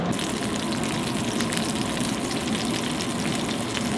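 A cheeseburger fries on a hot surface in a truck camper, the cheese crisping, giving a steady, loud, close sizzle that runs unbroken throughout.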